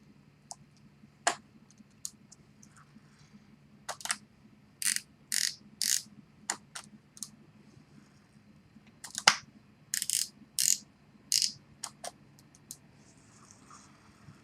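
Daiwa Saltist LD35 two-speed fishing reel with its handle turning, giving bursts of quick ratcheting clicks in several separate spurts with short pauses between, close and crisp over a quiet room hum.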